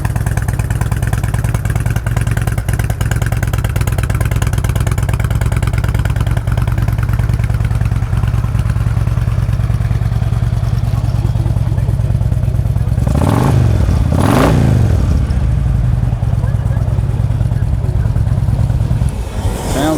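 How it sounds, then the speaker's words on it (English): A Harley Davidson Ultra Classic FLHTCU motorcycle engine idles with a deep, steady rumble, close and continuous, with two quick throttle blips near the end. "Motor sounds good and tight."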